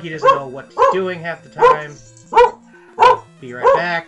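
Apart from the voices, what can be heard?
dog barking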